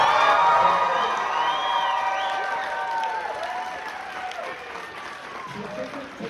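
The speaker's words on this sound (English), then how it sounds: "Can we have a huge round of applause" Audience applause and cheering at a K-Pop Demon Hunters screening event, loud at first and gradually fading, with whoops and crowd voices mixed in.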